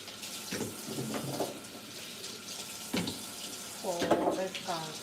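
Tap water runs to rinse dry fish in a kitchen sink, a faint splashing flow with a few brief louder gushes, and a voice speaks softly over it.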